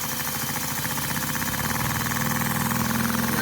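A Lego vacuum engine idles with an adjusting screw setting its idle speed, giving a steady, fast mechanical chugging with a continuous vibrating hum, close and constant throughout.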